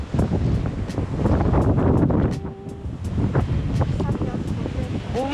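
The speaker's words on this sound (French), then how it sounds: "Mais il fait tellement de vent genre." Strong wind roars and buffets the microphone outdoors at a henhouse, a steady loud rush with gusts that briefly ease midway, while a voice speaks faintly underneath.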